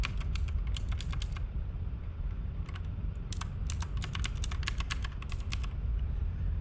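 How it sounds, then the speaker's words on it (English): WASD keys on a computer keyboard pressed in quick clusters of clicks over a steady low background hum, close and clear, with no talking. "I can look around using WASD keys."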